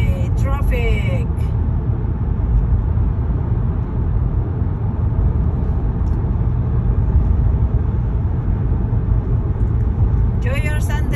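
Dense Sunday road traffic on a packed route, a steady loud rumble of cars and buses filling the whole stretch, with brief bursts of higher noise at the start and end.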